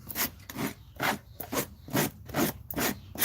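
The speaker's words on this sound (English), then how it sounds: "This rasp is fantastic, by the way. Great rasp." Farrier's rasp filing a horse's hoof: a steady series of about seven rhythmic, rough scraping strokes, close and moderately loud, with no talking.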